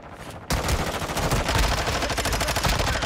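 Sustained automatic SMG fire from Call of Duty Warzone on the Vondel map bursts in suddenly and rattles on loudly and continuously, dense rapid shots filling the whole stretch.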